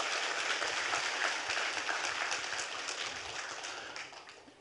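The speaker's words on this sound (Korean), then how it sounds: "박수로 영광 돌립니다." A church congregation at a Friday worship service applauds in a dense, even wash of clapping that slowly fades toward the end.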